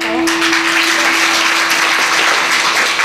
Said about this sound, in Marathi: वाजवा की यांच्यासाठी जोरदार टाळ्या.